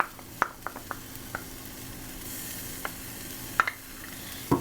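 Garlic cloves sizzle faintly in a pan for a one-pan lemon chicken piccata with rice. A steady low frying hiss runs throughout, with scattered light clicks and taps of stirring.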